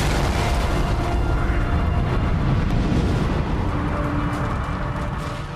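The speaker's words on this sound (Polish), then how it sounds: "usłyszeliśmy drugą potworną eksplozję" A powerful explosion at the Chernobyl nuclear reactor rumbles with a sustained, loud roar that fills the whole stretch, only easing slightly toward the end.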